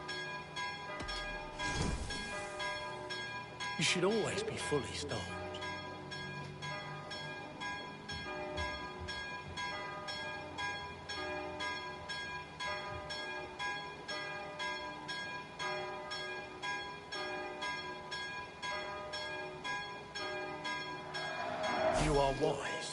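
In the video game Assassin's Creed Valhalla, a bell rings with steady repeated chimes beneath ambient game sound, while a voice speaks briefly over it, with louder bursts near the start and end.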